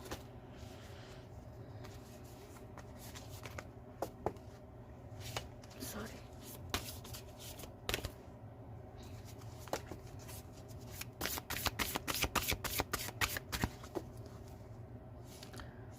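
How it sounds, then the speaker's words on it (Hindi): Deck of oracle cards being shuffled by hand, soft riffling and flicking throughout with a quicker, denser burst of card snaps toward the end, recorded close in a quiet room. "गीता डेक से भी ले लेते हैं कुछ कार्ड्स"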